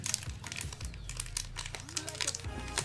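A Pokémon Fusion Strike trading card pack's tough foil wrapper crinkles and rustles continuously as it is pulled open by hand, close and fairly steady, with a person talking over it.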